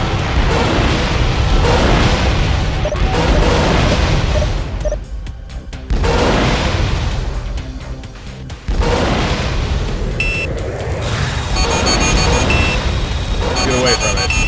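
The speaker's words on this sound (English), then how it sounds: "Turn away from heavy incoming fire." Heavy weapons fire pounds a starship in Freespace 2, a dense, loud roar of crashing impacts and booming blasts that fills the whole span, dipping briefly before surging again.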